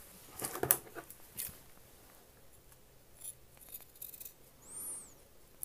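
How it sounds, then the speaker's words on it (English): Scissors trim the seam allowance on a men's shirt, McCall's 6972, close to a line of stitching: a few faint, crisp snips and clicks spaced apart in a quiet room. "you just want to trim this seam allowance here close to this second line of stitching"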